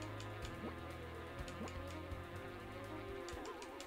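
Bees in the video game Bugdom give off a faint insect buzz with wavering pitch. It drones under steady game music and other game sounds, with no voices.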